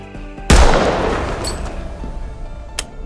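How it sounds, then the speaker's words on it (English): Gunfire in an action movie scene: one sharp, loud close shot that rings out and decays, followed near the end by a second faint report, with no talking. "Hearing the gunshots outside, Phil instantly kills all the lights"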